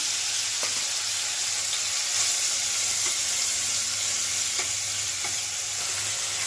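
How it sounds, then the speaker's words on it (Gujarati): Ginger, garlic, green chili and tomato fry in hot oil as a tempering, giving a constant close sizzle and hiss with a few faint stirring clicks and no talk. "આદુ, લસણ, મરચું અને ટમેટું આપણે વઘાર કરી લીધો છે."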